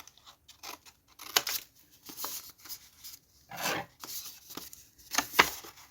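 Scissors trim the flap of a paper bag, producing a series of close, crisp snips and papery rustles in uneven bursts, no voices.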